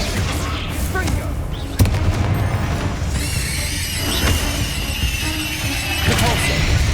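A Confringo blasting spell explodes in the Hogwarts Legacy video game: a sharp boom bursts out amid dense, continuous game effects and voices, with further crackling blasts following.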